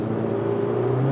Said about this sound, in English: Whoa, wheel spin.